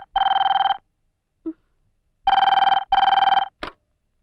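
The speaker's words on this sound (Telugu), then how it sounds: "వేళ పాల లేకుండా ఈ వెధవ ఫోన్ ఒకటి." A telephone rings loudly and close by in a home: one long electronic trill, then a pause, then two more trills in quick succession, with brief clicks between them.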